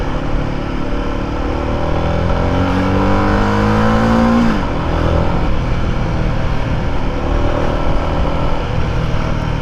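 A Royal Enfield Guerrilla 450 motorcycle revs up loudly and close, its engine pitch climbing through rising RPM, then dropping back to a steady, heavy drone.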